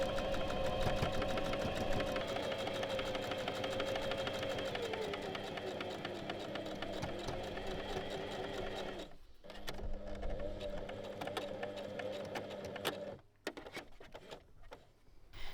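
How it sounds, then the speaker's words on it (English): A domestic sewing machine runs in long steady bursts as it stitches a line along a fabric waistband, whirring closely with brief pauses and restarts. "For the lower line of stitching, sew 1 centimeter up from the bottom edge of the waistband."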